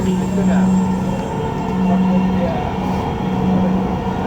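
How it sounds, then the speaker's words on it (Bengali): A Dhaka metro rail train runs at speed, heard from on board as a steady, loud rumble with a sustained low electric hum that rises and falls. "আপনারা দেখতে পাচ্ছেন ট্রেন তার নিজস্ব গতিতে ছুটে চলছে"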